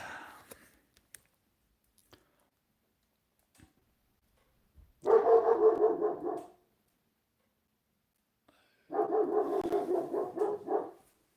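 A dog barks at night in two loud, rapid bursts, each lasting a second or two, with quiet gaps before and between them.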